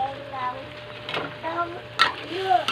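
Chicken curry is stirred in a pan, with quiet sizzling and a few sharp utensil clinks against the metal. Faint voice fragments drift underneath.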